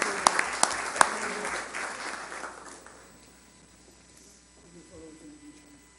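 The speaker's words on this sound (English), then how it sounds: "Let's give them a round of applause." An audience at a Rock Island parade entry presentation breaks into applause with a few sharp claps at the start, building to a dense burst, then fading steadily to quiet within a few seconds.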